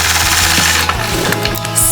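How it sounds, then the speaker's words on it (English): A sewing machine stitches angled lines across a quilt, giving a steady, dense mechanical rattle that runs without a break for the whole moment, close and fairly loud, with no talking. "I'll engage the machine and continue stitching."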